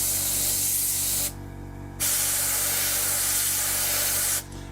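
An airbrush or spray gun hisses paint onto a panel of a 1/48 Academy F-4B Phantom model kit, two steady close bursts of loud hiss separated by a short pause.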